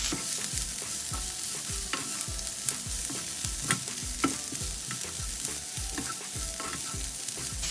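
Shredded cabbage with salt and pepper is stir-fried in a pan for Gujarati sambharo, a close, steady sizzle punctuated by a rapid run of spatula scrapes and taps throughout.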